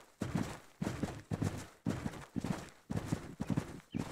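Horse hooves walk in the video game Mary King's Riding School 2, a regular clip-clop of paired hoof strikes repeating about every half second, close and clear with no talking.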